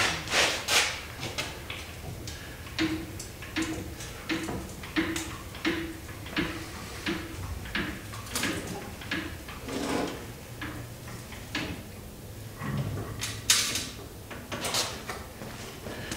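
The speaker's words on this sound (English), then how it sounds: "Let me crank the old rotisserie around here" A car body on a restoration rotisserie being cranked around, giving a steady run of close, rhythmic ratcheting clicks and knocks with no talking.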